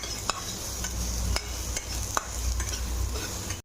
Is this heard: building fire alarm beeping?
no